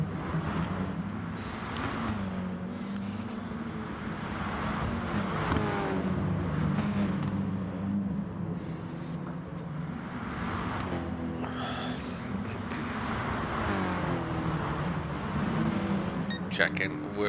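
Race cars circle a circuit at speed, engines droning and swelling as they pass, a continuous motor roar with a commentator talking over it throughout.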